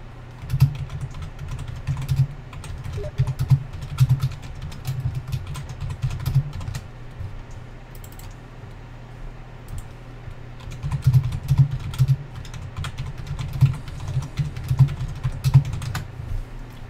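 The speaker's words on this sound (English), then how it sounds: "Just typing away frantically on my keyboard." Rapid, frantic typing on a computer keyboard, a dense stream of close key clicks with a few short pauses, over a low steady hum.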